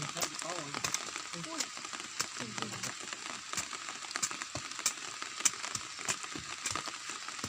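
Rain falls steadily across a garden plot dug for growing vegetables, making a dense, continuous crackling hiss with sharper drop ticks throughout, near and moderately loud, with no clear speech over it.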